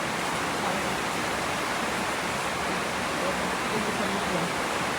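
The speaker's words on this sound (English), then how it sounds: "Look how crazy the water raining." Dense, steady roar of heavy rain pouring down close by in Lagos during flooding, a constant broadband hiss with no breaks across the whole stretch.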